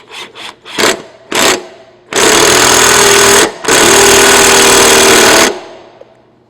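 A battery impact driver tightens the blade nut on a tilted-up lawn mower, firing a few short rattling bursts before two long, loud hammering runs split by a brief pause.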